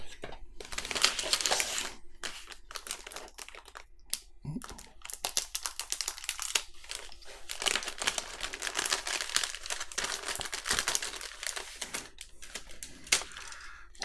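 Plastic packaging crinkles and rustles in close bursts, with sharp crackles and brief pauses as the bag is handled and pulled open.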